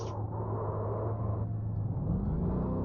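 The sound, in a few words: race car engine braking and accelerating, racing video game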